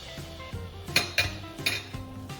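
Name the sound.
spatula flipping a banana pancake in a pan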